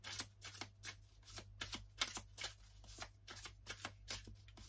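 Tarot cards are shuffled in a rapid, rhythmic riffle, about a dozen crisp bursts of card flutter close by, with a low steady hum underneath and no speech.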